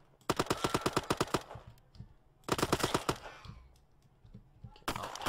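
Rapid bursts of automatic gunfire from an egg-themed first-person shooter video game, two loud fast volleys separated by a pause, then a third burst beginning at the end, with no talk.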